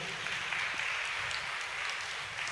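A congregation at a Tamil Catholic Lent sermon claps together in a dense, steady wash of applause that holds evenly throughout, with no speech over it.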